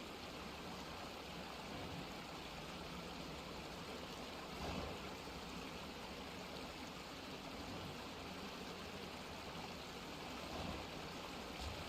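A video game waterfall rushes in a steady, even wash of noise that stays constant throughout, fairly soft and with no talking over it.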